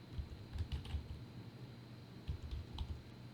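Someone types a comment on a computer keyboard, with soft, quick key taps coming in short bursts close by and a brief pause between them, no talk.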